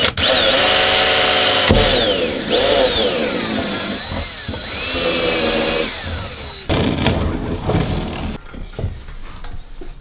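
Power tool noise, likely a drill boring holes for a propane tank mount inside a van, runs loud and close for about ten seconds, its pitch rising and falling as the load changes, with brief pauses and a rougher stretch near the end.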